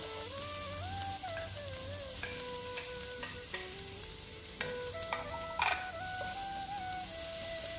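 Onions fry with garlic in a pan, giving a soft, steady sizzle under background music with occasional faint stirring clinks.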